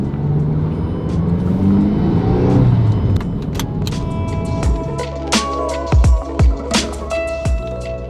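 A Mazdaspeed3 with freshly installed motor and transmission mounts, driven with its engine steadily droning and rumbling, followed by a string of sharp knocks and clunks from the car in the second half.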